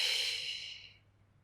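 A single soft, airy exhale during a beginner pilates ab exercise, close and quiet, tapering off over about a second.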